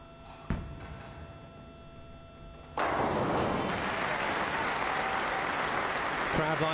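A heavy thud as a ten-pin bowling ball strikes on a single lane at the 2007 World Masters Games, then after a short lull a loud burst of crowd applause sustained to the end, with a commentator speaking over it.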